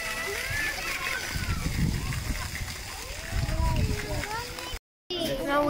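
A water fountain splashes steadily at a crocodile enclosure in Melbourne Zoo, a constant watery rush with children and adults talking over it throughout.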